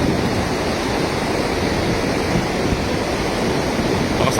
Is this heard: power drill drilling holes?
no